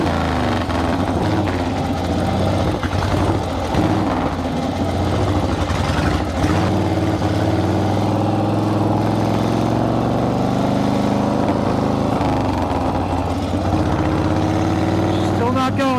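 A rebuilt 1940 flathead engine idles steadily while warming up, a continuous low rumble with some uneven throttle swells. Someone talks over it throughout.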